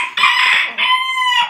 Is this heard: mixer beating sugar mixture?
no